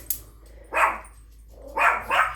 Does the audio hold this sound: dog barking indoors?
yes